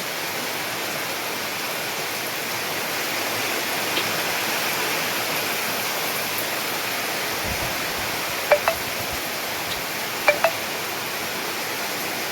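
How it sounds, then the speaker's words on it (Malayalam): Heavy rain pours down in a dense, even roar, with a couple of faint clicks near the end. "നല്ല മഴയാണ് കേട്ടോ"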